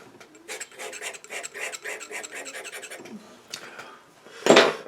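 Palette knife scraping wet oil paint off a 2mm MDF panel in a rapid run of short rasping strokes, close and fairly loud, ending in one harsher scrape.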